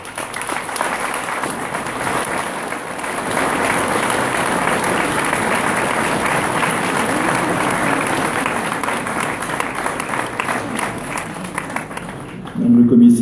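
An audience at a speech applauds a police commissioner and her teams with sustained, even clapping that fills the room for several seconds, ending as a voice returns briefly.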